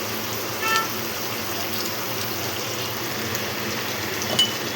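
Vegetables sautéing with turmeric powder in one pot while making sambar rice, giving a steady, close sizzle with a couple of light stirring clinks.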